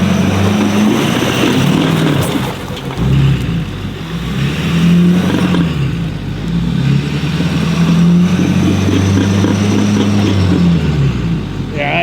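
A pickup truck with its differential locked works off-road, spinning just one wheel, its diesel engine droning and revving steadily for twelve seconds, loud and close, with low rumbling throughout.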